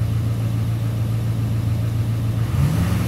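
A Duramax LBZ diesel pickup engine idles at a raised speed of about 900 RPM, producing a steady low drone close to the listener. The pitch shifts slightly near the end, and no one talks.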